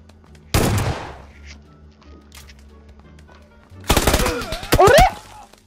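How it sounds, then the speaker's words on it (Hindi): Two bursts of rapid automatic gunfire from the PUBG video game on PC, the first near 0.5 s and a denser volley near 4 s, each a loud crackling rattle with a brief quieter gap between. "गोली तो भाई चला देता है, ये भी गोली चला देता है भैया।"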